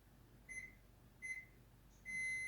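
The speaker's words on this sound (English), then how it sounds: "My timer is going off behind me to tell me that my cheesecake has been in the oven for 15 minutes." A kitchen oven timer sounds during cheesecake baking: two short electronic beeps, then a longer sustained beep, clear and moderately near against a quiet room.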